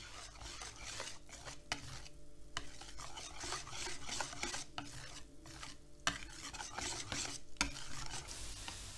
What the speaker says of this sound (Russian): Вот я сейчас волью оставшееся молочко, перемешаю еще раз и дам настояться.